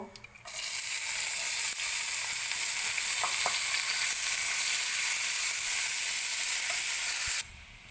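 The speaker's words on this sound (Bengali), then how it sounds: "এবার আমি পেঁয়াজ কুচিগুলো এর মধ্যে দিয়ে দেব।" Chopped onions hit hot oil for a prawn malai curry and burst into a loud, steady frying sizzle that holds evenly for about seven seconds, with a few faint clinks, then cuts off abruptly.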